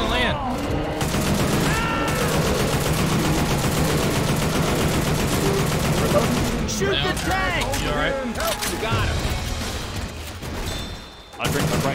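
Rapid gunfire and bursts of automatic shooting fill a hectic Left 4 Dead 2 zombie fight, loud and nearly continuous, with players shouting over the shots.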